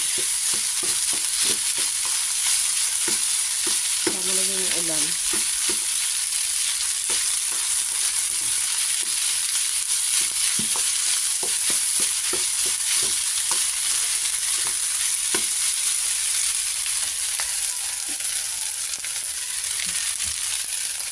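Leftover day-old rice fries in a hot pan as Filipino sinangag with a steady, close sizzle. Scraping stirs and light clinks of the utensil against the pan run through it, and a short squeaky tone sounds briefly partway through.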